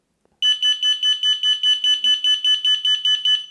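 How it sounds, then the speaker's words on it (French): A loud, piercing electronic alarm siren pulses rapidly and steadily, about four bursts per second, sounding close and alone after a brief silence. "on reçoit une notification comme quoi que la sirène s'est mise en route"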